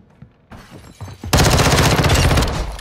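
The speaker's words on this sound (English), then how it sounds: "I shot you through the thing." Video game gunfire bursts out loud and continuous after a quieter stretch of scattered lighter shots, a dense sustained fusillade filling the second half.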